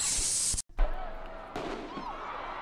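Fireworks burst at the feet of police during a street protest, a loud crackling blast opening the scene, then a sharp cutoff before another bang and a lingering rumble with further pops and crowd noise.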